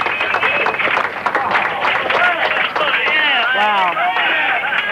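Excited voices and cheering fill the Jet Propulsion Laboratory control room after the Sojourner rover lands on Mars. Overlapping speech and shouting carry on throughout.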